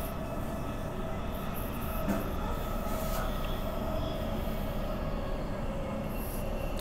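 Transperth B-Train three-car shuttle train running on a loop, a steady loud rumble of wheels and motors with a constant rolling drone throughout and no speech.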